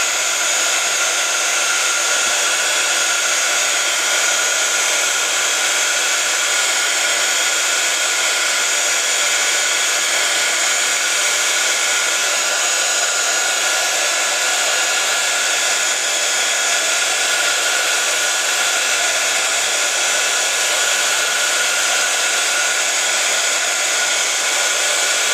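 A heat gun blows steadily on paper to crinkle it for paper flowers, a constant loud whooshing hiss that holds unchanged and uninterrupted for the whole stretch.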